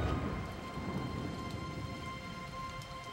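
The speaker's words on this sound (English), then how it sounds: "the autumn rains begin on the Somme" Steady autumn rain falls on the Somme battlefield, a dense continuous hiss with a low rumbling undertone, even and unbroken throughout with no voices.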